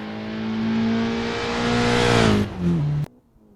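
Road car driven flat out on a race track, its engine revving hard at full throttle with a steady rising whine, then briefly dropping pitch before cutting off abruptly near the end.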